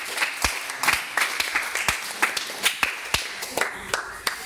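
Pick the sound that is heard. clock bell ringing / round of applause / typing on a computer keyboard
round of applause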